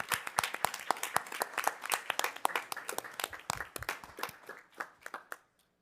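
A room at a board of directors meeting claps for student athletes, a small group of sharp, distinct hand claps that start brisk and thin out toward the end before fading to silence.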